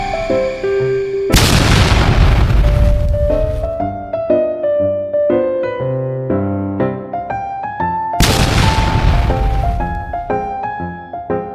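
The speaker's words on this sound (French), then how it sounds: "J'ai le pistolet, je pourrais tirer sur Piggy." Two loud, booming pistol shots in the Roblox Piggy video game, about seven seconds apart, each with a long decaying rumble over steady melodic game music.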